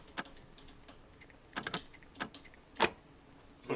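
Lockpicking a lock in the video game Scum: a few quiet, sharp metallic clicks and ticks spaced irregularly, with a brighter scrape near the end, faint and alone without talk.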